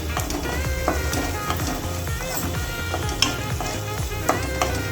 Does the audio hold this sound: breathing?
no